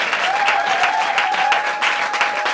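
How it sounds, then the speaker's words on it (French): A congregation at a French-language church service applauds and cheers continuously, a dense and steady wash of clapping with a sustained raised voice or tone running through it, close and full. "On a une acclamation au Seigneur."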